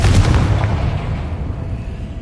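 A Confringo blast spell going off in Hogwarts Legacy: a loud, deep explosive boom at the start, followed by a rumbling roar that slowly fades and trails away over about two seconds.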